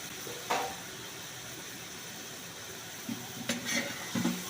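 Tomatoes frying in a pan for wedding-style sambar give off a steady close sizzle, broken by a few brief stirring clinks and scrapes, with no speech.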